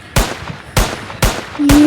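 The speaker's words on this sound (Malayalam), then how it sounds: "നമുക്ക് മറ്റേ പിസ്റ്റൽ വെച്ചൊന്ന് വെടി വെച്ച് നോക്കാം" Four sharp pistol shots in a video game, spaced about half a second apart, each a loud crack with a short decay, followed by a faint electronic tone.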